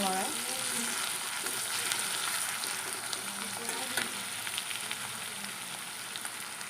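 Onions, crushed garlic and chilli fry and sizzle in a pan for an Assamese egg curry, a steady close hiss with occasional stirring scrapes and no talk.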